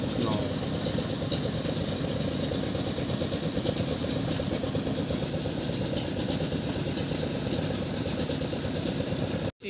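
An old motorcycle engine runs steadily at a rough, loud idle for nearly ten seconds, then cuts off abruptly right at the end.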